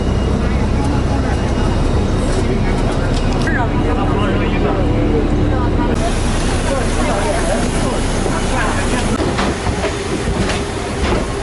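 Loud, steady airplane cabin rumble fills the whole stretch, a dense broadband roar with people talking underneath and occasional small clicks and shifts.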